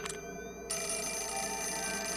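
A telephone rings in the video game Project Zero 4, a steady electronic ring that cuts in loud and sustained after a brief quieter moment, set against a constant low background hum with no talking.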